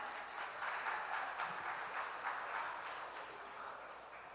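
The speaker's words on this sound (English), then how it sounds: "A round of applause, please." Faint, distant applause from an audience at a hacking challenge event, a steady wash of clapping lasting a few seconds with a murmur of voices underneath.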